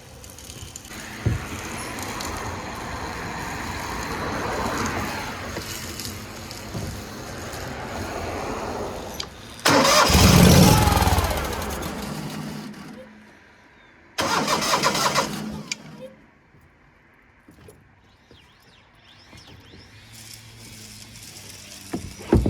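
A 1970s skid steer engine cranks in two distinct bursts, a loud rumbling attempt followed by a shorter one, against background noise and without catching. No one speaks.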